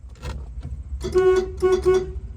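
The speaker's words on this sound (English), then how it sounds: "Horn does work." A 1970 Dodge Coronet Super Bee's horn honks three times, two short bursts and a slightly longer one, loud and close, after some low idling noise.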